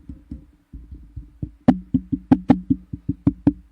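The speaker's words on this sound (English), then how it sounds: "so there's a lot of knocking coming in" Knuckles knock directly on a MAONO dynamic podcast microphone, a rapid series of about fifteen close, boomy thumps, soft at first and then sharper and louder, with no speech.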